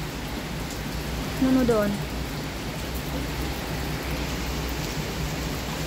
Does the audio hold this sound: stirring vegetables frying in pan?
no